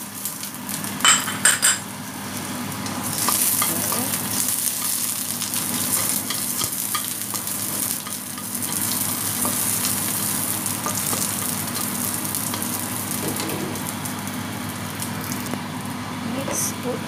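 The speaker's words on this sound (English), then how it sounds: "Put the garlic." Garlic hits a hot pan for a simple stir-fry of mixed vegetables, cabbage and black mushroom, sending up a bright steady sizzle after a few opening clinks of utensils, with stirring scrapes and a voice speaking over it.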